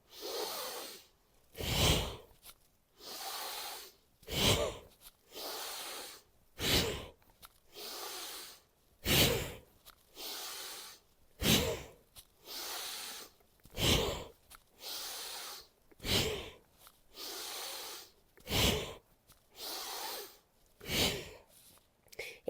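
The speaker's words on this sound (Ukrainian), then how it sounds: "Ми дихаємо через ніс, але максимально глибоко, особливо коли ми нарощуємо рух." Deep, forceful breaths drawn in and pushed out through the nose during a kundalini yoga exercise, about sixteen close rhythmic cycles, each a loud rushing airflow with short quiet gaps between.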